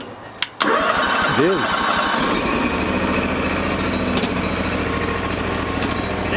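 A 1998 Terramite T5C backhoe engine cranks and catches after a brief pause, then runs with a loud, steady, rough chugging close by, with a short spoken phrase near the start.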